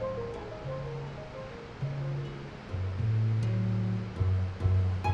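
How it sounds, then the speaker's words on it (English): Bridal Falls, a multi-tier waterfall on Mount Index in western Washington, cascades over a massive rock face with a steady, distant rushing roar, while soft melodic music plays over it and grows louder toward the end. "the main part of this multi-tier waterfall cascades over a massive rock face"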